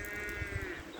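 Cows in an open field lowing, a short nearby call carried over steady outdoor wind noise.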